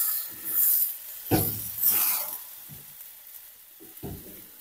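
Fish hit hot oil in a pan and sizzle, with bursts of hissing as they are stirred and scraped, several separate surges fading to a quieter fry, close up with no talk.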